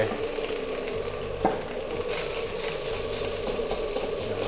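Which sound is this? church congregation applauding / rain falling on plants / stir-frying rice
stir-frying rice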